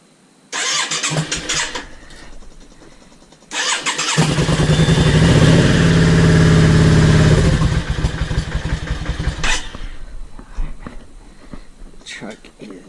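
A motorcycle with newly fitted Mikuni carburetor pod filters and velocity stacks, re-jetted, cranks once briefly, then starts on choke and settles into a loud, steady, close idle before tapering off, with people talking around it.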